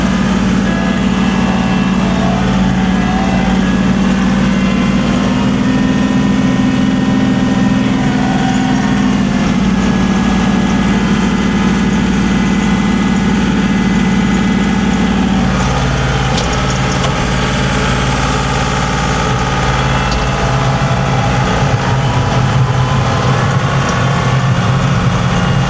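A tractor engine runs loud and steady, its revs climbing and holding high before dropping back partway through. No voices.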